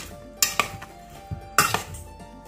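Parboiled potatoes with rosemary stirred in a pan: two clusters of sharp metallic scrapes and clinks from the utensil against the pan, with softer knocks between them and a low steady hum underneath.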